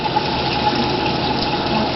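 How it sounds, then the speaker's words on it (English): Water runs from a tap at a handwashing sink, turned on with a manual knob or a foot pedal. It makes a loud, steady, unbroken rush that lasts the whole stretch, with no voices. "You can use your manual knob to turn your water on, or you can use a foot pedal."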